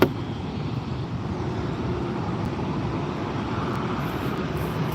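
An Alaska Horizon airliner touching down at LAX, heard as a steady, broad roar of jet or turboprop engine noise that holds at an even level without pause or speech.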